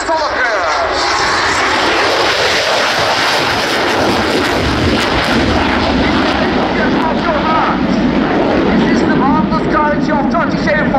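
A Turkish Air Force F-16 jet from the Solo Turk display team flies at an airshow, its loud, steady engine roar sustained throughout while an announcer speaks over it.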